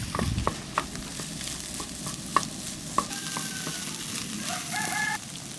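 Beaten egg with green peas and onion scrambles in a hot frying pan, sizzling steadily while a utensil stirs and taps the pan in repeated knocks, all without talk.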